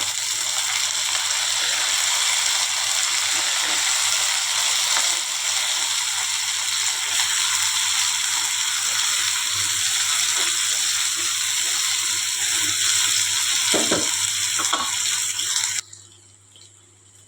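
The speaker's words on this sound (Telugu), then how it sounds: "ఇప్పుడు ఆనియన్స్ వేగాయి కదా ఇప్పుడు కడిగి పెట్టుకున్న వంకాయ ముక్కలు వేసుకోవాలి" Washed brinjal pieces tipped into a pan of fried onions for a brinjal and pea curry set off a loud, steady wet sizzle and hiss. It carries on with a few small knocks before cutting off abruptly near the end.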